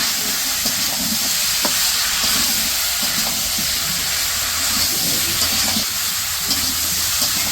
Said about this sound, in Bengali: এখন দিব সবজি। তো সবজিগুলো ভালো করে কষে নিব।